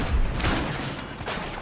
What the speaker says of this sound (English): lots of shooting.